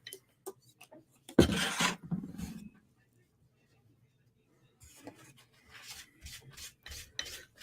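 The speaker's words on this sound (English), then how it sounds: "We're going to clean off all the marker on the edge I got on there." A magic eraser rubs marker off the edge of a knife blade, a Para 3 or Benchmade 940 being sharpened, in a brisk scrubbing burst followed by quieter intermittent rubbing strokes close up.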